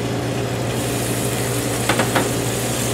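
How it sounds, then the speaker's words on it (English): Minced garlic and shallots sauté in olive oil in a heated pan, giving a steady broadband sizzle with a constant low hum beneath and a couple of brief scraping stirs near the end. "I'm going to saute this off so it's semi-translucent"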